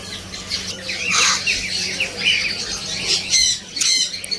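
Caged birds of many kinds in a large shop give loud, harsh squawks in quick repeated bursts, close by and overlapping, with lighter chirps threaded between them.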